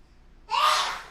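A single sharp sneeze bursts out close up after a moment of near silence, then trails off quickly.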